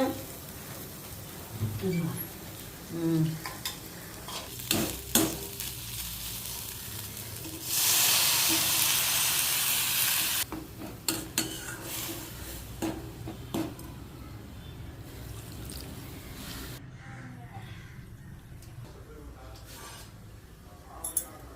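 Okra sizzles and hisses in a hot pan, with occasional utensil clinks and stirring, a loud burst of frying midway, and a voice talking intermittently in Tamil.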